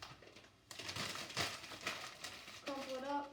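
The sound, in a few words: crumpling newspaper by hand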